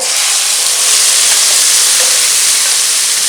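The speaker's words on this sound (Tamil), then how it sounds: "இந்த தொக்கை நல்லா இது கொஞ்சம் வந்து தெளிக்கும்" Omavalli (Indian borage) thokku paste sizzling and spattering loudly in a pan over a lowered flame, a dense, continuous hiss and crackle with no voices.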